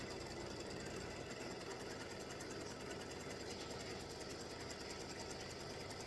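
A sewing machine runs steadily with brown thread, tacking down a half sheet of 9x12 paper, a fast even mechanical chatter close up and uninterrupted throughout.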